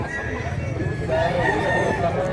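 A rooster crows once amid a noisy market crowd at a Cebu chicken sale, its drawn-out call rising over background chatter and clucking.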